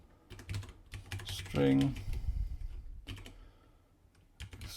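Code being typed on a computer keyboard in quick bursts of close key clicks, with someone briefly speaking in the middle and pauses between the typing runs.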